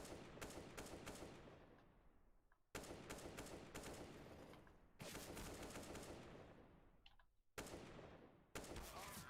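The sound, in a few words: gunfire in video game PUBG Mobile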